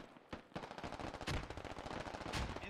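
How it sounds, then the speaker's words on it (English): Rapid automatic gunfire in the video game Squad, dense bursts of shots fired in quick succession at moderate distance. "Oh, we got some fire going on."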